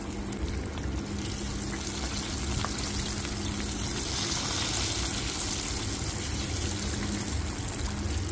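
Thin slices of tofu coated in cornstarch fry in hot oil, giving a steady, dense hiss and sizzle that runs without a break throughout, with no voices.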